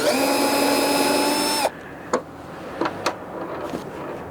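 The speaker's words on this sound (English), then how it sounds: "take our bit, take these screws out of it" A power drill whirs steadily for about a second and a half, backing screws out of a third brake light, then stops, followed by a few small clicks and taps of handled parts.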